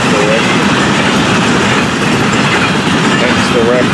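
FEC 210, a Florida East Coast Railway freight train, rumbles past close by with a steady loud roar of rolling wheels and faint wheel squeals.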